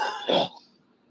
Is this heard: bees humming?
no